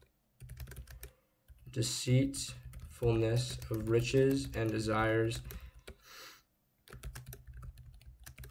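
Steady computer keyboard typing in quick bursts with short pauses, running under a voice reading aloud close by.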